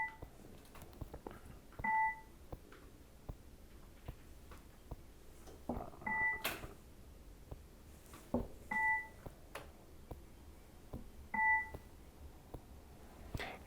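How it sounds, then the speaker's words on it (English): Short paired electronic beeps from the Focus Builder training app sound at a few spaced moments over a quiet room background. They are fairly clear and no one speaks. "If it's correct, you get that beeping sound."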